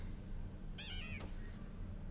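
Cat-like Pokémon in Pokémon Legends: Arceus gives a single short, rising meow, clear over a steady low game background hum, followed by a brief noisy scratch, with no talking.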